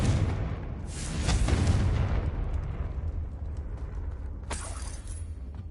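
The Confringo blasting spell goes off in Hogwarts Legacy on PS5 with a loud, booming explosion. A long rumbling tail follows, and a second sharper burst breaks through near the end. No one speaks.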